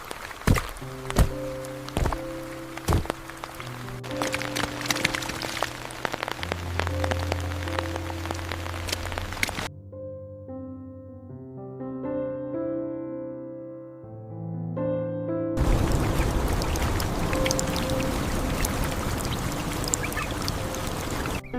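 Heavy rain from a Kalahari storm pours steadily, briefly giving way to a quieter stretch with soft musical tones before the downpour returns loud and dense.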